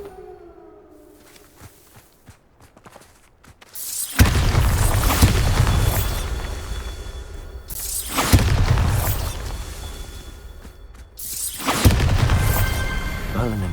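Bombarda explosion spell in Hogwarts Legacy sets off three loud booming blasts, each a sudden broadband burst with a long rumbling tail, spaced a few seconds apart after a quieter opening.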